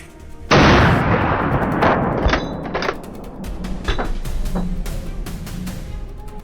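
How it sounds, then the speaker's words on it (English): A loud gunshot cracks out during a wild boar hunt, then several more sharp shots follow irregularly, echoing and fading at varying distances. "The sound of gunfire echoed from all directions"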